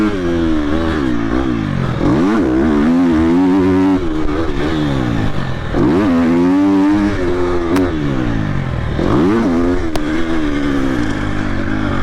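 A Triumph TF250-X motorcycle revving hard while being ridden, its loud engine rising and falling through repeated throttle swells and gear changes, close and continuous.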